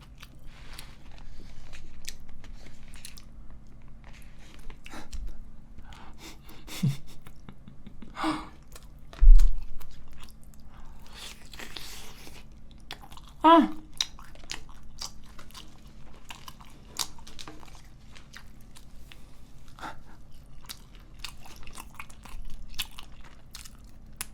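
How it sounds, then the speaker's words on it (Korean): Someone eats a pork loin cutlet lunch box from a convenience store, with close, soft chewing and occasional crunchy bites and wet mouth sounds over a low steady hum, no speech. "안 되겠다. 쩝쩝거려야겠다."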